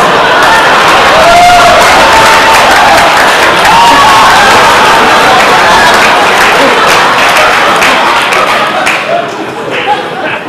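An audience claps through a keynote speech, giving loud, dense, sustained applause with some crowd murmur that holds steady and then begins to thin near the end.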